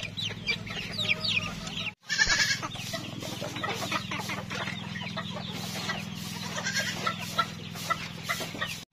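Chicks and small bantam chickens on a farm cheep and cluck continuously, with many overlapping high peeps and a low steady hum beneath, close and busy throughout, broken by a brief dropout.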